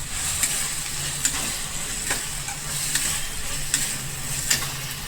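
Steady sizzling hiss from a pan as tuvar thotha is mixed with green garlic, with occasional light spoon scrapes and taps over the continuous frying noise, close and moderately loud, no speech.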